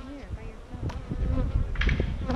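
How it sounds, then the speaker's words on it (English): Honeybee trapped inside a beekeeper's veil, buzzing close and loud in wavering bursts, with rustling and handling noise around it. "A lot of people panic when they have a bee on the inside of the veil."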